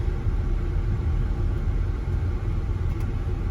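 A BMW E71 X6 drives through a country park, giving a steady, close engine rumble and road noise inside the car that holds even throughout, with no talk.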